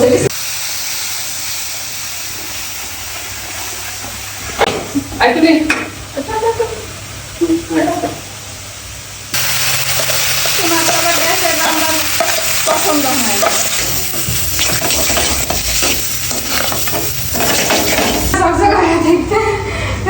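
Food stirred in a cooking pot in a home kitchen, a loud continuous sizzle with irregular scraping strokes of a spoon, while women chat nearby throughout.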